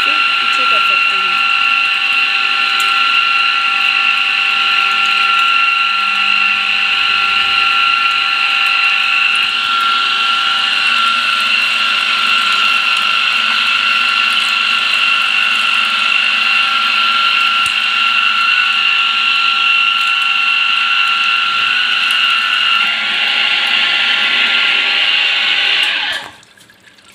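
Nandini electric bar and rod threading machine, sized for M10 to M33, running with a loud steady mechanical whine and grinding hum for nearly half a minute before cutting off abruptly at the end.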